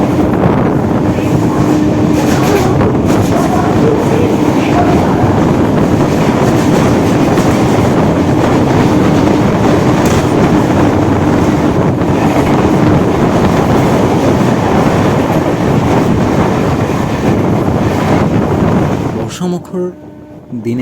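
A crowded Ranaghat galloping local train runs past Sodepur station, with a loud, continuous rumble and clatter of wheels on rails that fades near the end.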